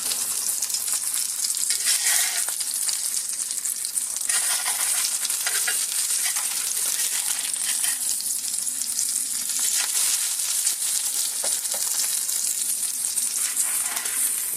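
An egg fries in oil in a pan for a breakfast egg sandwich, giving a steady, dense sizzle and crackle throughout with occasional light clinks, and no voices.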